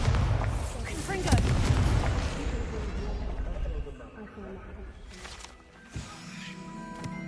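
Spell explosions cast in a video game go off in loud booming bursts early on, then fade into quieter rumbles with a sharp pop near the end, alongside a spoken voice.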